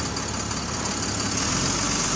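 A HIAB crane truck's engine runs steady and loud, rising slightly in strength as it revs up near the end, with no talk over it.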